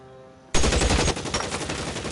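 An enemy opens fire in a PS4 shooter game: a loud, sudden burst of automatic gunfire that cuts in after a quiet humming moment and keeps rattling to the end.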